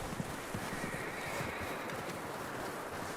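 A horse whinnies over muffled hoofbeats and a steady wash of background noise in the video game Red Dead Redemption 2, the sound somewhat distant and processed.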